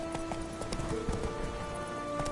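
Roach, the horse in The Witcher 3, gallops in a quick, steady clip-clop of hooves, close and clear, with game music tones sustained underneath.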